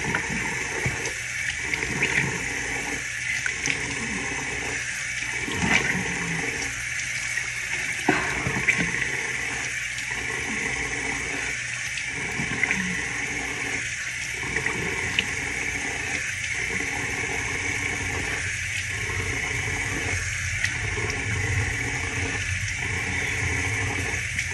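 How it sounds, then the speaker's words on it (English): Tap water runs steadily at a sink during a nighttime face-washing routine, a continuous gushing flow with a faint rhythmic pulsing, moderately close and alone with no talking. "So I'm about to wash this off my face."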